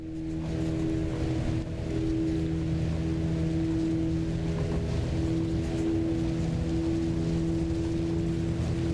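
Twin piston engines of a Cessna 404 Titan in Flight Simulator 2024 run at full takeoff throttle, a steady, loud droning hum with a constant tonal whine that holds unbroken throughout.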